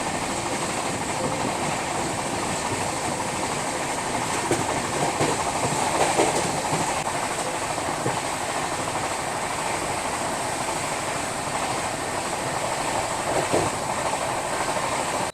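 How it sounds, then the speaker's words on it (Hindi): A Poorvottar Sampark Kranti express train runs on a nonstop stretch out of New Delhi toward Kanpur Central, giving a steady, continuous rumble of wheels on rails with faint clickety-clack, heard from inside the carriage with no talk. "अभी अपनी ट्रेन निकली है न्यू दिल्ली से, तो लगभग 441 किलोमीटर का नॉन स्टॉप रन है कानपुर सेंट्रल तक"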